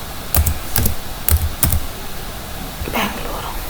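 Keys clack in short bursts as a city name is typed into a Google search on a computer keyboard, quick close taps in a few clusters, with a brief pause before a final keystroke.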